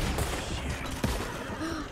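A burst of rapid gunfire in Red Dead Redemption 2, several sharp shots in quick succession, over dense background noise, with one louder crack standing out.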